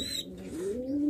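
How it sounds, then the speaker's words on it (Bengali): A young blue pouter pigeon gives one close, low coo that swells and rises in pitch over about a second, heard alone without any voices. "এখানে এক জোড়া পোটার কবুতরের বাচ্চা আছে ব্লু পোটার"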